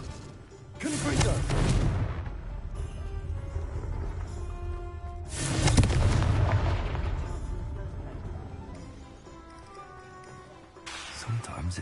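Confringo fire spell blasts in the Hogwarts Legacy video game, two loud booming explosions about four seconds apart, each with a rumbling tail, and a third sharper impact near the end, set over game music and sound effects.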